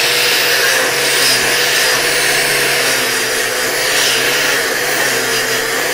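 A sanding pad on a power tool works over a ground weld in quick passes, giving a continuous loud, close, even whir with a hiss and no speech.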